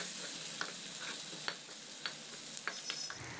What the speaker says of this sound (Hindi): प्याज को मैं हल्का सॉफ्ट होने तक भून लेती हूँ, तो मीडियम फ्लेम पे इसे हम अच्छे से भून लेंगे।